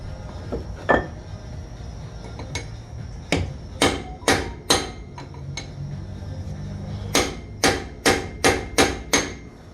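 Sharp metallic hammer strikes on a Silverado Duramax AAM 11.5 rear axle pinion ring out, first scattered and then in quick bursts of four or five blows, loud and close, with no talking.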